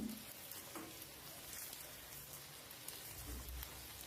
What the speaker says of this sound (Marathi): कांदा पण छान तेलावर परतून घ्यायचा आहे आपल्याला